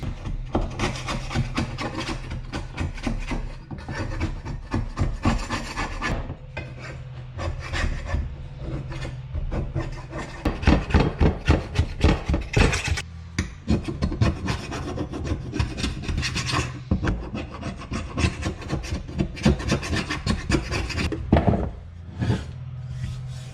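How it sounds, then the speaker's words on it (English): Lawn mower blades are scraped clean by hand, a close, loud rhythm of repeated rasping strokes that continues in bursts with brief pauses. "All right, let's scrape them off and get them clean."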